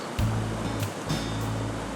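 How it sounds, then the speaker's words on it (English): Spring meltwater running around a trailer and down toward a river, a steady rushing flow close by with a brief bump near the start, continuous and without voices. "spring has sprung and the water's flowing pretty good"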